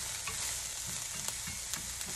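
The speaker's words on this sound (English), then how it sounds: "And now we're just waiting to brown these veggies up." Vegetables and garlic browning in a pan, a loud, close, continuous sizzle with light stirring taps scattered through, no speech.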